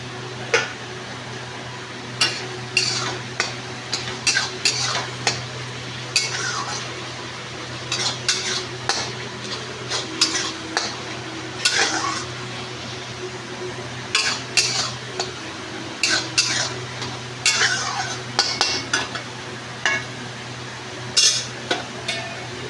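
A metal spoon scrapes and clinks against a kadhai on a home kitchen stove while food fries, irregular sharp taps and stirring strokes over a low steady hum, no voices.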